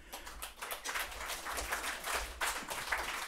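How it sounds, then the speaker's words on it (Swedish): Applause from an audience at a Swedish panel discussion on patient safety, moderate and fairly steady over a few seconds, a dense patter of many hands without voices on top. "Ska vi inte få en applåd och komma fram här nu?"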